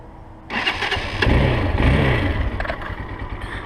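A small engine on a 2020 machine cranks and catches, then settles into a steady, loud running rumble close by, with no talking over it.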